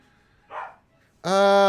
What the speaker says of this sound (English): he's howling